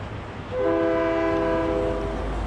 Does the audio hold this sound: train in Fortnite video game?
yes